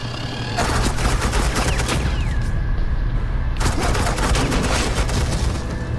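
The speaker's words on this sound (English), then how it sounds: "This is Agent Quinn, suppressing fire." Rapid sustained bursts of automatic gunfire as suppressing fire in Batman: The Enemy Within, loud and close, rolling for several seconds with dense overlapping shots and a brief lighter stretch midway.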